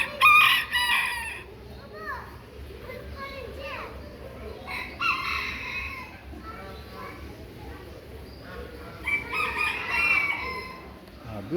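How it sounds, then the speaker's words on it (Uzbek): Japanese bantam chickens crow and cluck in a crowded poultry pen, several loud crows coming in bursts at the start, middle and near the end, with clucking and people talking in the background. "Yana yapon tovuqchalari."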